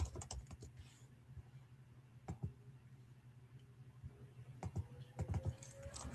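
Quiet, close keystrokes on a computer keyboard, irregular clusters of taps with pauses, with a couple of denser bursts near the end and no clear speech.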